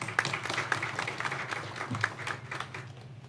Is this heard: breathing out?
no